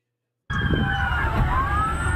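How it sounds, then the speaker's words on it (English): Police sirens wail and rise in pitch over a rumbling street background in Madison, Wisconsin, starting abruptly and continuing loud and fairly close. "Sirens wailing in Madison, Wisconsin just before 11 a.m."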